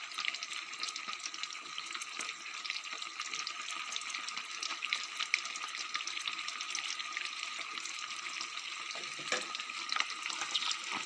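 Bamboo shoots frying in a pan give a steady, close, dense sizzle with faint stirring scrapes, running continuously and evenly throughout.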